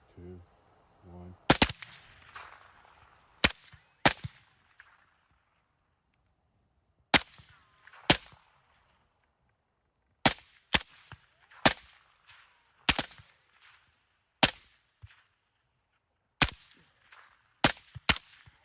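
Rifle shots fired through a night-hunting setup crack out as sharp, loud single reports at irregular intervals, about a dozen in all, with short quiet gaps and faint insect chirping between them.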